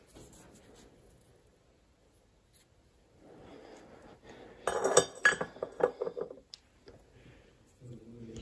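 Amethyst crystal points clink in a small bowl, a burst of bright glassy taps and chinks in the middle, close and crisp, with quieter handling sounds before and after.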